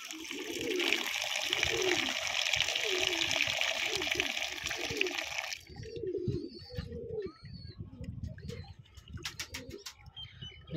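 Water runs steadily for about five seconds while drinking water is readied for racing pigeons in a loft, then stops; pigeons coo repeatedly nearby throughout, followed by scattered clicks and knocks.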